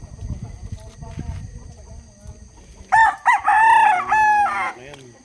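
A fighting rooster without wing feathers crows loudly and close by with a long, drawn-out call, following a stretch of quieter background clucking and rustling, at a gamecock sale in Alfonso, Cavite.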